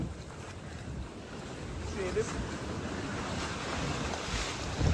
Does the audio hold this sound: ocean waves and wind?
yes